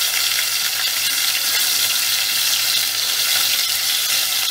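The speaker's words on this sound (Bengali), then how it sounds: "চিংড়িটা আমি ভাজছি কিন্তু খুব একটা বেশি ভাজব না" Prawns frying in hot oil in a pan, a steady close sizzle that stays loud and even throughout with no talk.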